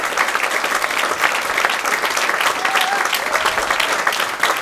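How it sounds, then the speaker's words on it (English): A stand-up comedy show audience gives a sustained round of applause: thick, even clapping that fills the room for several seconds without a break. "Let's give a nice final round of applause to Josh Fiser, Joey Krack, and Will Axbill."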